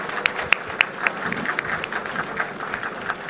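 Audience applause at a Public Works Department road programme launch on Penang island, a steady patter of many hands clapping with a few sharper nearby claps, moderately loud and continuous.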